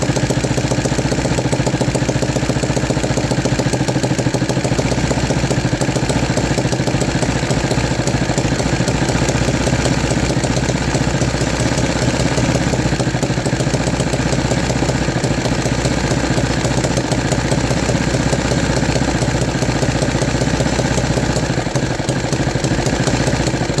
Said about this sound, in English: So there we have it, guys, a fully functional engine.